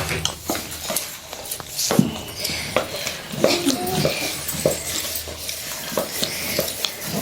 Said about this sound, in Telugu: మా అమ్మ సంగటి ఎలా గెలుపుతుంది చూడండి